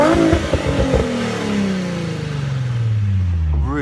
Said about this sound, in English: So if I give that a rev now